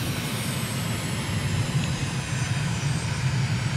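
A light aircraft engine droning steadily in flight over Uganda, throttled back to idle for a descent: a constant, loud, close propeller hum with low rumble throughout and no speech.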